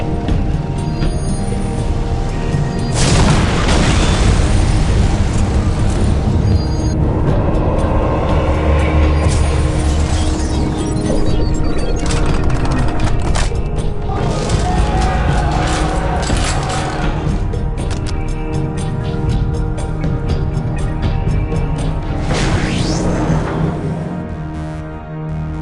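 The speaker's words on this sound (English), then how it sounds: "Preparing Whirlwind missile battery to fire." Whirlwind missile battery artillery firing in the Warhammer 40,000 game Dawn of War, a series of loud whooshing launches and rumbling bursts over a dense battlefield din, close and heavy throughout.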